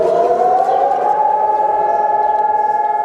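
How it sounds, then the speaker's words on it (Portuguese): A long, sustained wail of civil defense sirens across Israel on Holocaust Remembrance Day sounds steadily at a constant pitch, loud and unbroken for the whole stretch. "Israel inteiro parou hoje por 2 minutos ao som de sirenes no dia do Holocausto"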